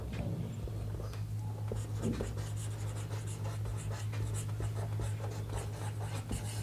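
Math written by hand on a board or paper during a class 10 ratio and proportion lesson makes a run of scratchy strokes and taps, layered over a steady low hum with no speech.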